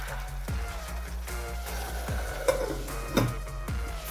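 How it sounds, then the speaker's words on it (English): Food frying in a covered pan while being stirred, with soft sizzling under repeated scraping stirs and a couple of sharper clinks against the pan. "What we're basically doing is cooking and frying it at the same time."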